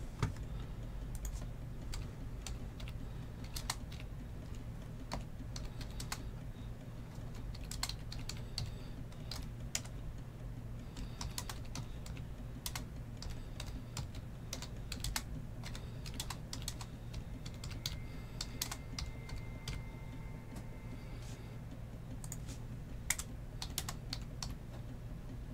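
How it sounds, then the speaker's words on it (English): Someone types a reply on a computer keyboard, producing quiet, steady clicking keystrokes in irregular bursts over a low background hum, with no voices. "let me type a response to this character"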